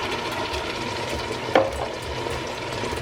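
A mixture is tipped into a pot of Ghanaian okra stew, giving a steady close sizzle with stirring and a brief knock of the spoon midway.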